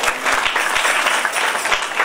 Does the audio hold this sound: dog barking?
no